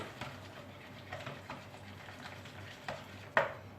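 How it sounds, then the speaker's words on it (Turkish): Milk being stirred into an oil batter for revani in a bowl, with soft, repeated scraping strokes and a sharper clink of the utensil near the end, quiet and close, with no talking. "Şimdi onu karıştırıyorum."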